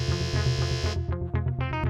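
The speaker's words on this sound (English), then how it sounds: "you've gone on the buzzer" A buzzer on a televised quiz competition sounds as a loud, sustained electronic tone with pulsing harmonics, then breaks into shorter stuttering bursts, heard alone with no talk.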